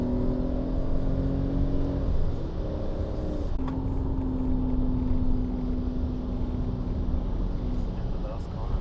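A V12 BMW E38 750iL sedan drives along with a steady, loud engine and road rumble, its drone holding and then shifting partway through, while voices talk inside the car.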